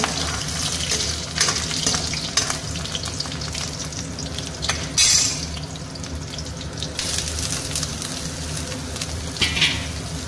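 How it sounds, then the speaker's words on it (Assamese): Onions and green chilies sizzle steadily in a hot pan while a spoon stirs and scrapes through them, a dense continuous frying hiss with occasional clinks and splashy bursts, close and loud, with no talking. "এতিয়া ধুনীয়াকৈ জলকীয়া দুটামান পেলাই দিওঁ তাৰপিছত ধুনীয়াকৈ অলপ লৰাই"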